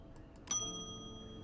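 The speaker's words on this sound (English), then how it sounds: "even this cat gets startled by the bell" Shop bell in the video game Strange Antiquities, a single bright metallic ding that rings out and decays slowly, heard faintly over quiet background sound.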